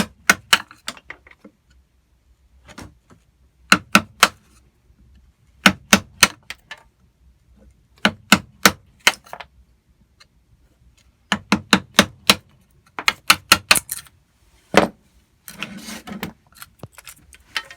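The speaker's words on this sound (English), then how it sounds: "Chiseling on the line, not below." Hand chisel striking wood while shaping a part for a small boat project, sharp bright taps in clusters of two to five, close and distinct with quiet pauses between groups.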